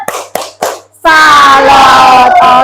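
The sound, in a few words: audience clapping hands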